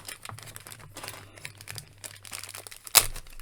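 Plastic accessory bag for a Masters of the Universe Origins Hordak figure, crinkled and rustled by hand at close range, with steady handling noise and one sharp crackle near the end.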